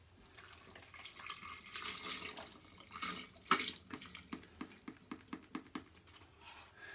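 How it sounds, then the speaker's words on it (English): Bone broth is poured into a smoothie in a blender jar, a soft trickle rising to a splash and then a series of quieter, rhythmic glugging drips. "let's pour in the bone broth"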